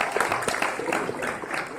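Big-room applause from a launch-event audience for the Oppo F1S phone in India: a dense, steady wash of many hands clapping, fairly loud and sustained throughout.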